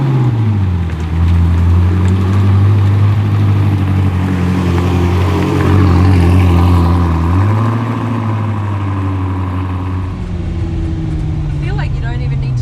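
A 1,750 horsepower supercar pulls away and accelerates, its engine a loud, close, deep drone that climbs and holds steady, eases off, then rises again as the car gathers speed.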